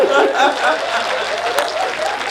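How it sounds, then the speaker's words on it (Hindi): Audience at a Hindi poetry recital applauding with raised hands, steady dense clapping with a brief burst of chuckling, filling the whole moment. "हाथ उठा के तालियां बजा रहा"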